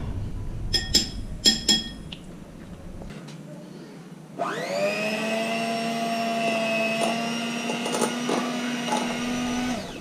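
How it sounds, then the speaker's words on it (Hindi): Blender grinding castor sugar, starting with a sudden whir and running as a loud, steady, high whine, after a few light clinks of glass and utensils. "अब इसको हम लोग करते हैं ब्लेंड."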